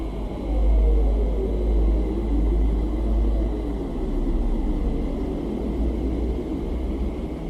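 Recorded hum of planet Earth heard as a steady deep rumble with a broad roaring wash, swelling slightly early on and then holding level and continuous throughout.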